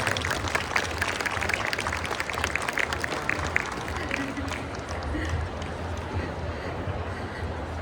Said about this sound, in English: let's give Tonya Reeves a massive round of applause today as she makes it to the main stage